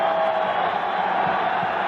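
Spectators at a 1987 Eagle Pro Box Lacrosse League semifinal playoff game in Philadelphia roar in a steady, dense wash of crowd noise, sustained and fairly loud with no distinct breaks.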